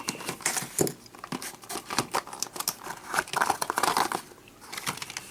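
A knife slices and saws through plastic toy-blaster packaging, with bursts of crinkling, scraping and tearing close by, uneven and moderately loud throughout.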